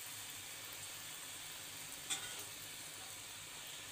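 Oil pitha, a sweet Bangladeshi fritter, fries quietly in oil with a faint, even sizzling hiss and one brief soft clink midway, no voices.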